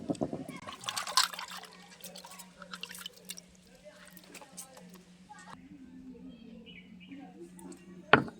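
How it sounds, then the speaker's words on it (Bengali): Water drips and trickles from freshly washed chicken pieces draining in a basket for Bengali steamed chicken, with scattered close drips, a faint steady hum underneath and occasional kitchen clatter. "আমি এবার মাংসটিকে জল ঝরিয়ে নেব"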